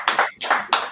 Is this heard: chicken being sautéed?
no